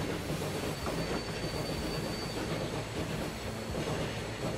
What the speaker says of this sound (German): Das ist halt ein schneller Zug.